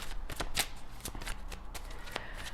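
Tarot cards are shuffled in a series of quick, soft riffling bursts and flicks, close and fairly quiet, with no voice.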